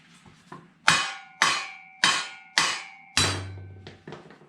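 A hammer taps a steel driveshaft yoke six times at a steady, moderate pace, each strike a sharp metallic ring that decays briefly, close and loud with no talk.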